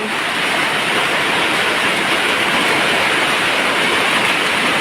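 Heavy rain pours at a garden house beside a canal, a dense, unbroken hiss that stays loud and even throughout with no voices.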